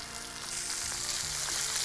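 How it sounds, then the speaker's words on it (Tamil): Ground masala paste frying in a hot pan after cashews, producing a dense, even sizzling hiss that stays loud and close without pause. "இந்த மசாலா கொட்டிகிட்டு இருக்கோம் இல்லையா, இந்த மசாலா வதங்கணும்."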